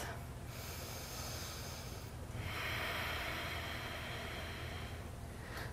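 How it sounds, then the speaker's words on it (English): Slow deep breathing during a yoga trapeze flow for hips and hamstrings, two long airy inhale-exhale swells close to the mic, steady and unhurried with no talking. "Three deep breaths."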